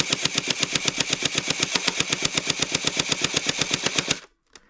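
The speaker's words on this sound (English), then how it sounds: "let's see how many rounds per second this thing shoots" A Gel Zone Hydrax gel blaster fires full auto in a rapid, even burst of about thirty close, sharp mechanical shots over four seconds, then stops into silence with one faint click.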